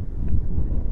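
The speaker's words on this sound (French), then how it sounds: "Oh, ah, le vent là." Wind buffets the microphone outdoors in Brittany, a low rough rumble that swells and dips over a brief second.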